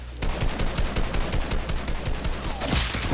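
Dense, rapid gunfire from a video game crackles in loud, continuous bursts of repeated shots, with no voices over it.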